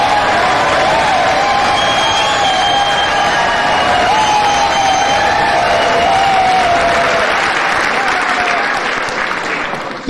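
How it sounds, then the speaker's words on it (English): A large crowd applauds loudly and continuously for about ten seconds, with cheers and occasional whoops mixed into the dense clapping, easing slightly at the very end. "Thank you for that very generous applause."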